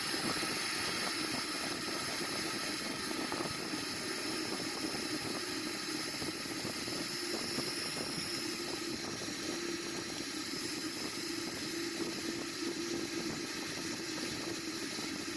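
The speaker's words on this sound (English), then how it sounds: "Let's see if I use this tiller to steer the aircraft." Boeing 777-300ER taxiing on a runway in a flight simulator game, steered with the tiller: a steady, dense engine roar and hiss that holds evenly throughout without pause.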